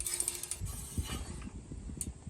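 A freshly assembled bicycle wheel spins freely on a BikeBerry BBR Stinger, giving a steady mechanical whir with faint ticking from the hub, close by and alone.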